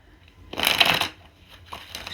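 Oracle cards are shuffled in one brief, close rustling burst, followed by a few softer card sounds, with no talking.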